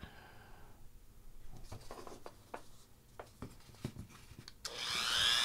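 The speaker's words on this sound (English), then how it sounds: "We're going to be very careful not to cut into those traces when we're expanding these holes." A small hand tool scrapes and cuts to widen holes in the circuit board of a 1986-89 Corvette C68 HVAC controller, with faint, close, irregular scratching ticks and a louder rushing noise near the end.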